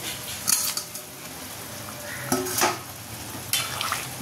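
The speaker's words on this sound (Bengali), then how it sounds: "চলো তাহলে মাছগুলো দিয়ে দিই ঝোলের মধ্যে।" Fish slid into a simmering lemon curry give short sizzling and splashing bursts. A few quick clatters and stirs stand out over a low bubbling background, and nobody speaks.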